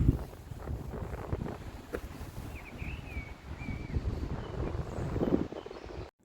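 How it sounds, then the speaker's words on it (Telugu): Wind rushes through trees in the Wicklow Mountains of Ireland, a gusty, broadband roar buffeting the microphone, with a faint bird chirp partway through before it cuts off. "ఆ గాలికి కదులుతున్న చెట్ల నుంచి వచ్చే శబ్దం"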